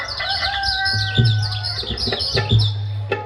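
A voice imitates a rooster's crow at a comedy event in Surgana, with warbling high tones and a few short bursts, while a steady low hum runs underneath.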